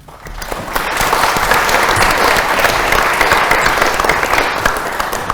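Audience applause fills a room at a 2022 mental wellbeing panel debate, a dense, steady round of clapping from many people that swells quickly and holds at full strength.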